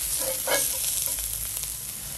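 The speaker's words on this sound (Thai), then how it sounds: "เอาพริกแกงลงผัดจะให้สีสวยเราก็ใส่พริกขี้หนูแห้งป่นลงไปหน่อยนะคะ" Curry paste and ground dried chili stir-fry in a pan over medium heat, with a steady, close hiss of sizzling oil and a few soft stirring touches.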